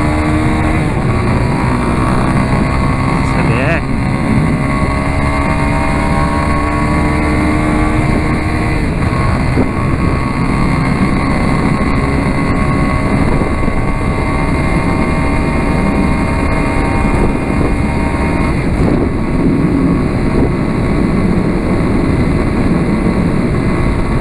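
A 250cc motorcycle accelerating along a busy avenue between Curitiba and São José dos Pinhais, a dense buzzing engine roar mixed with wind and traffic noise, constant and loud for the whole stretch.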